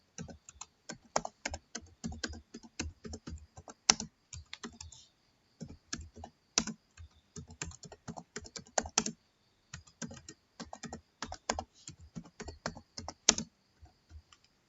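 Close-up typing of a file name on a computer keyboard, irregular bursts of crisp key clicks with short pauses between, sharper clacks now and then, no voices.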